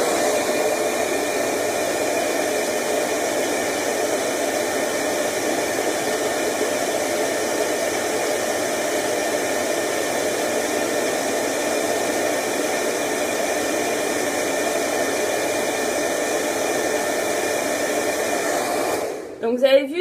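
A hair dryer blows on eyelashes to curl them while held fairly far from the eye. It gives a loud, steady whooshing roar for about nineteen seconds, then cuts off with a few handling knocks at the end.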